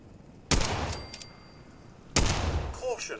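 Two bursts of rifle fire in Fallout 4, each a sharp loud crack trailing into a short decay, about a second and a half apart, with faint game sounds between and after.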